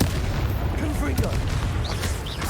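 Confringo blasting spell explosions in the Hogwarts Legacy video game: a continuous roar of booming blasts and crackling impacts, with game voices in the mix.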